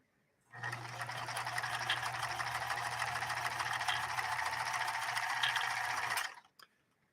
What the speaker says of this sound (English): All right, so blind hem stitch now.